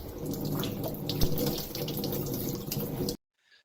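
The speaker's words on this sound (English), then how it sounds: "the water runs down from the tap and hits our hand" Water runs steadily from a tap and splashes over a hand, a continuous close hiss and patter that stops abruptly near the end.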